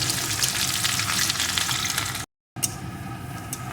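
Chopped onion frying in hot oil in a pan, a steady loud sizzle that cuts out briefly and returns, with no voices.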